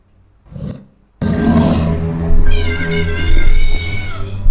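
A cat fighting another animal: after a short quiet lead-in, loud harmonic yowls and growling snarls break out and run continuously close to the listener, with rising and falling caterwaul-like cries and no talking.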